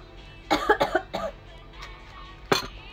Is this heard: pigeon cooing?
no